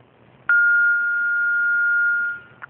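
On a TV call-in show, a telephone line tone sounds as a single steady beep lasting nearly two seconds, clear and fairly loud, ending with a faint click.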